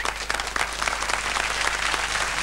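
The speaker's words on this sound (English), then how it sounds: "We'll give them some applause" Studio audience applause on a British variety TV show, a continuous dense wash of clapping with no voices, steady and fairly close throughout.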